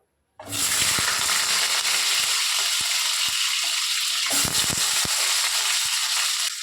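Potato pieces dropped into hot mustard oil in a kadai burst into a loud, steady broadband sizzle that continues close-up without pause, with a brief surge partway through as the frying intensifies.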